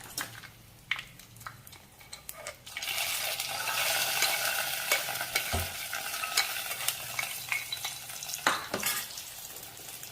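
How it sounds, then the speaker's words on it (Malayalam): A loud sizzle erupts as hot mustard-seed and curry-leaf tempering in oil hits rasam, hissing strongly and then fading slowly, with a few clinks of a utensil. "കടുക് വറുത്തത് രസത്തിലേക്ക് ചേർക്കാം."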